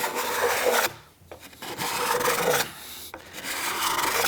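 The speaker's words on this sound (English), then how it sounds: "when you get this scraped in with a hand scraper, you get a really, really nice finish" A hand scraper rasps across a wooden surface in three long, dry strokes separated by short pauses, close and fairly loud, with no talking.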